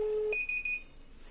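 A GSM community alarm, triggered by a phone call, answers with electronic beeps: a steady mid tone gives way to a higher pulsing beep, clear but modest in level in a quiet room.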